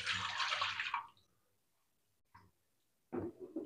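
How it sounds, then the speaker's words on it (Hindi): Milk pours into a pan of bubbling garlic and fresh cream sauce for Alfredo pasta with a brief, splashy gush lasting about a second, followed by quiet and a few small kitchen noises. "जब बबल बनना शुरू हो जाए तो उसमें हम डालेंगे दूध।"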